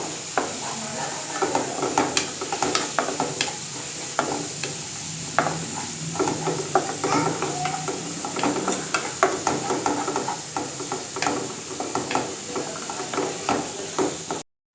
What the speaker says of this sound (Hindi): थोड़ा सा लहसुन को भूनेंगे।